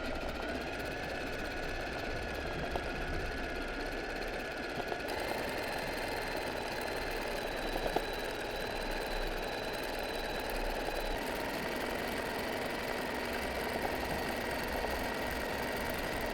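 A domestic sewing machine runs continuously, stitching freehand zigzag satin-stitch embroidery with the hoop held in place, making a steady mechanical whirr and rapid needle chatter at close range throughout, with no talk.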